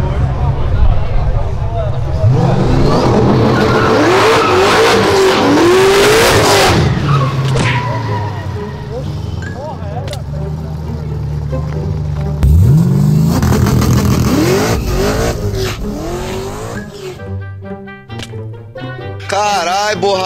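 Cars racing with tires squealing and burning rubber, a turbocharged Mercedes C63 and a Jetta TSI among Camaros, with loud engine roar and screeching skids under excited voices throughout.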